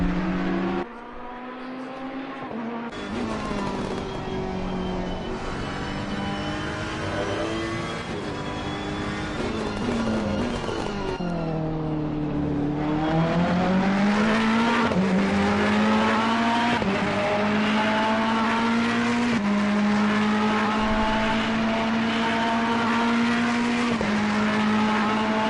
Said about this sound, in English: Absolutely glorious sound that Ferrari makes.